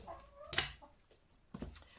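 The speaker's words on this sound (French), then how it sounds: "Oui, si vous entendez une poule, c'est normal" A hen clucks nearby, a short sharp cluck followed by a second burst of clucking, faint against a quiet indoor background.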